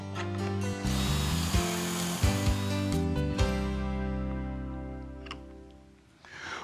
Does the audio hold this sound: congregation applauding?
no